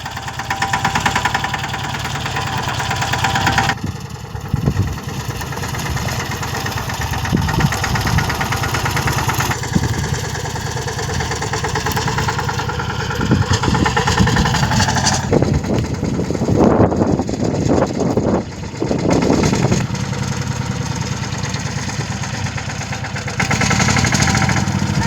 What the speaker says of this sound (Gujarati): ચાલો તો અમારું ટ્રેક્ટર આવી ગયું છે.